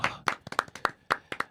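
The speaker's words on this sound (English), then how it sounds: "I need a round of applause" A small audience claps for a guest on a sit-down talk show, about eight sharp, separate hand claps over a second and a half, close and fairly light, with no talk.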